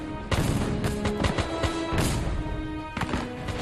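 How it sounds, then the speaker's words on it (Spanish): Dense gunfire and booming blasts crackle continuously in a chaotic War of 1812 battle scene, loud and overlapping, with sharp reports cutting through. "disparos británicos acaban con la vida del fusilero norteamericano"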